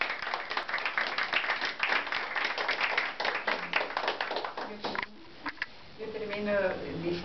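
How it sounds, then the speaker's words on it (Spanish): Audience clapping at a Father's Day speech event, a steady patter of many hands for several seconds with speech-like sounds mixed in, then thinning out as a voice picks up near the end. "y quiero un aplauso para ellos."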